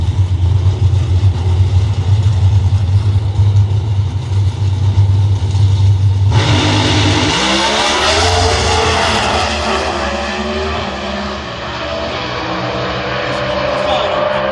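Pro Stock drag cars at the U.S. Nationals idle loudly at the line, then launch with an abrupt, roaring burst of engine noise that rises in pitch as they race away down the strip, with crowd noise behind.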